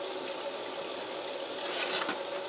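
Water runs steadily over a screen print stencil as it is rinsed, a continuous, close, hissing splash with no voices.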